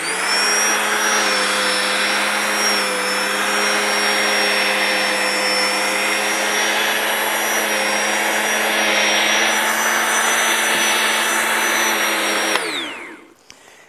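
An electric Sun Joe TJ602E tiller cultivator runs at a steady, loud, high-pitched whine with a constant motor hum. It winds down abruptly near the end, leaving faint rustling.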